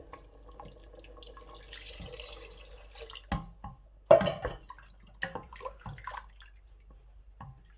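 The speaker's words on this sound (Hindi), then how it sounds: "1 लीटर पानी जो है वो मैं ऐड कर रहा हूँ बीच में" Water is poured into a pressure cooker of roasted black chickpeas: a soft, faint stream at first, then several sharper splashes and pot clatters in bursts, close and unaccompanied by talk.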